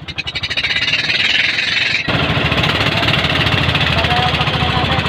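A small boat engine in the Philippines runs steadily and loudly throughout with a rapid chugging pulse; a brief hiss is heard at first, and the engine noise continues without a break.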